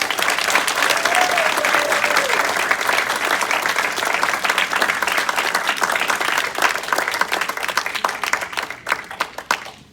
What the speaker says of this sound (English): Let's give our new members a round of applause as we welcome them.